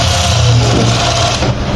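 An overlock sewing machine runs at speed with a loud, steady motor whir and hum that holds without a break.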